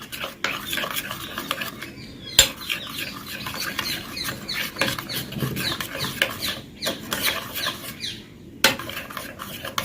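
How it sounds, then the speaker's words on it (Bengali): Spices and other ingredients being mixed into yogurt in a bowl, a close, wet squelching and scraping with irregular spoon clicks and knocks against the bowl, with no voices. "এই সব কটাকে দইয়ের সাথে মিশিয়ে নিচ্ছি, ভালো করে মিশিয়ে নিতে হবে।"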